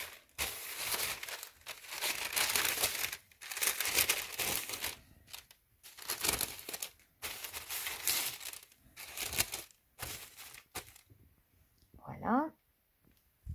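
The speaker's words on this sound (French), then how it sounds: "Je vais rajouter un petit papier cuisson pour protéger mon tote bag." Baking paper crinkles and rustles in repeated bursts as it is laid over a tote bag before flex heat-transfer vinyl is heat pressed; the crackling is close and fairly loud, with brief pauses between handlings.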